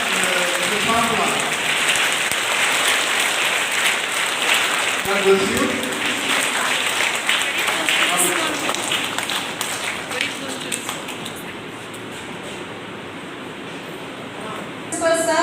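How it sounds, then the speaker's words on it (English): Clapping from an audience at an LKG school assembly for a young child, a dense patter like rain that fades in the second half, with speech heard briefly. "I give a special clap to this kid"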